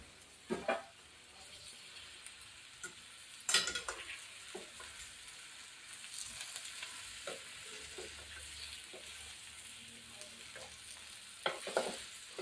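Young okra (bhindi) masala sizzles and fries in a pan, with scattered stirring scrapes and clinks over a soft steady frying hiss, near and fairly quiet.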